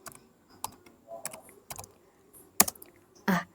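Typing on a computer keyboard during command-line work, a handful of separate, close key clicks spaced irregularly with quiet gaps between, sharper strokes near the end.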